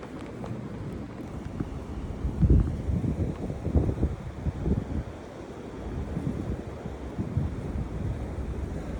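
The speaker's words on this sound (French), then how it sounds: "On voit les vagues frapper les rochers." Sea waves break against rocks on a windy Italian coast, rumbling surges swelling and fading irregularly beneath steady wind buffeting the microphone.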